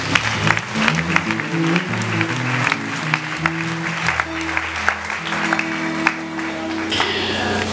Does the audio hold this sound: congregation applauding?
yes